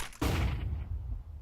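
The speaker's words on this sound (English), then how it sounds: "Vilby needs to get this flashbang out for their teammates" A flashbang grenade goes off in a tactical shooter video game, a sudden loud burst with a sharp attack and a broad, ringing decay lasting about a second.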